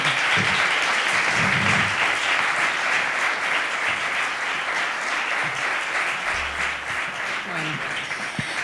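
Dense, continuous applause fills a festival closing ceremony for the Festival de las Letras in La Puebla de Cazalla, holding at an even level throughout with faint voices beneath.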